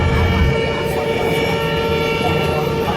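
A Royal Railway passenger train bound for Sihanoukville, Cambodia, runs along the rails near Kampot, giving a steady, loud rolling rumble with a continuous mechanical hum from the carriage throughout.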